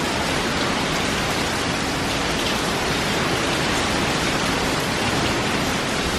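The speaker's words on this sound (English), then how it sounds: "You can hear the wind." Hurricane Delta's wind roars steadily across Louisiana, a loud, dense broadband rush that never lets up, with gusts swelling within the constant din and no voices.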